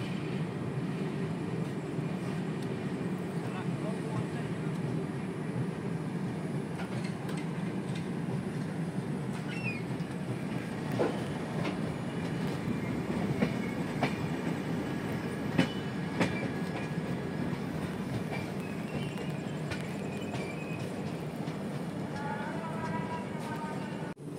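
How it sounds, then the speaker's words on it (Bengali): The Darjeeling Mail passenger train rolls along the tracks from Malda toward Bolpur Shantiniketan at night, with a continuous rumbling roar, steady wheel clatter and occasional metallic clanks, heard from inside the carriage. "রাত 11:40 ট্রেন মালদা ছেড়ে তার পরবর্তী গন্তব্য বোলপুর শান্তিনিকেতনের উদ্দেশ্যে রওনা হলো।"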